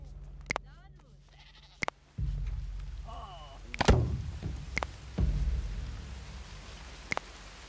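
Livestock bleating in the video game Dawn of Man, a few short animal calls scattered among rain, low rumbles and sharp clicks, with a person talking over the scene.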